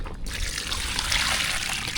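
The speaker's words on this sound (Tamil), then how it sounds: "புளி தண்ணி சேர்த்தாச்சு நல்லா கலந்து விட்டுக்கலாம்" Tamarind water is poured into a pot of sambar, making a steady, close trickling and splashing sound that runs alone for about two seconds.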